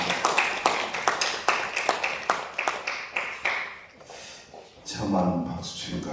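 A lone pair of hands claps in a church, a string of sharp, evenly paced claps that slow and fade, followed by someone speaking.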